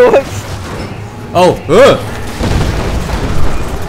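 Fireworks in the video game Dead Rising 3 go off as a few loud booming bursts in quick succession, with a player's startled exclamations over them and a rumbling roar afterward.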